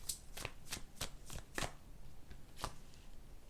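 Tarot cards being shuffled by hand, a series of soft riffling bursts at irregular intervals, close and quiet against a faint background hiss.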